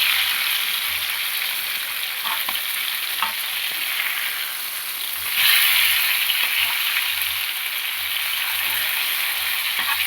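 Fish frying in a pan over a low flame makes a loud, continuous crackling sizzle, swelling briefly midway, with a faint low rhythmic rumble beneath.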